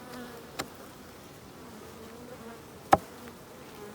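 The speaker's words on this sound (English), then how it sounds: "There's plenty of bees in there working." Honey bees work inside an opened beehive during a spring hive inspection, giving a faint, steady buzzing hum. Two sharp, brief clicks stand out, one early and one near the end.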